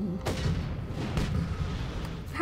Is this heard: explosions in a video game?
yes